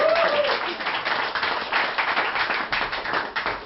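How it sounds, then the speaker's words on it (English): A burst of audience applause at a conference session, dense and steady clapping that fills the whole stretch at a fairly loud level. "Yes, please, applause."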